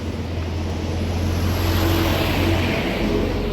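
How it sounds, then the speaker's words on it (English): Road traffic on a busy street, a steady loud roar of passing vehicles and engine rumble blended with wind noise, continuous and close throughout. "So there is a lot of traffic right now."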